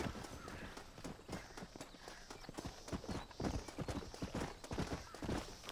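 Hooves of a horse in Red Dead Redemption clop in a quick, irregular rhythm, moderately close, with a few scuffs and softer thuds mixed in.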